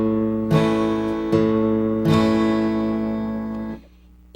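Three strong acoustic guitar strums ring out one after another, each chord sustaining before the sound cuts off, played without talking as a beginner's strumming pattern.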